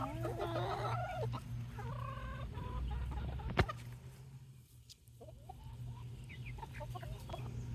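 Chickens in a backyard chicken run cluck and murmur close by, a series of short stuttering calls early on, then softer scattered clucks after a sharp knock, with a low steady hum underneath and no talking.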